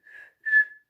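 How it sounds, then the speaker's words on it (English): A person whistles two clear steady notes, a shorter tone followed by a louder, longer one, alone and close with no talk, as the opening of a call-and-response clapping game. "I whistle"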